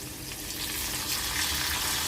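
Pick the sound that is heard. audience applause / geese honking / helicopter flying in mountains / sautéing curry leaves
sautéing curry leaves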